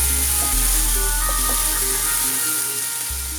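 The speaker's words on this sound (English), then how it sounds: "I add some gardein meatless strips. I'm just going to cook those until they're browned." Gardein meatless strips frying in a pan give a steady, close sizzle with faint tonal hum and occasional light ticks, running alone without talking for a few seconds.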